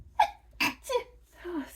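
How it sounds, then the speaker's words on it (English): A single close, loud sneeze from an adult indoors, a sharp burst followed by a couple of softer breathy catches and sounds. "I have to sneeze."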